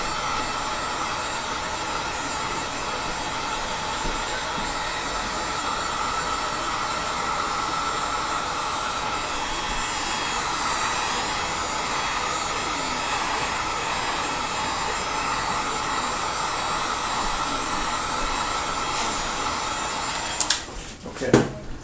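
A heat gun or dryer blows steadily while heating a wooden limb of a pseudo-Magyar bow, a constant close whooshing roar that runs unbroken for about twenty seconds before it cuts off, followed by a few brief handling clunks.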